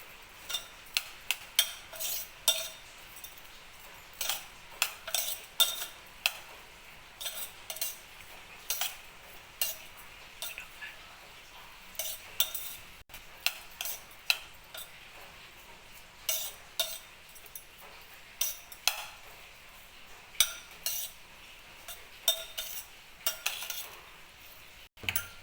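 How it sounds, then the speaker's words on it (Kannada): A spoon stirs lemon rice with salt and lemon juice in a metal pan, making irregular clinks and scrapes in uneven bursts, close and moderately loud, with no voices. "ಚೆನ್ನಾಗಿ ತಿರ್ಸ್ಕೋಬೇಕಾಗ್ತದೆ"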